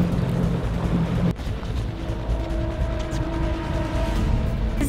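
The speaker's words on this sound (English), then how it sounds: "So Captain Kevin just turned on the motor, and we're moving towards him, nice and slow" Outboard motor on a fishing boat idles forward slowly through shallow Florida Keys flats water, a steady low drone with a faint hum and water wash throughout.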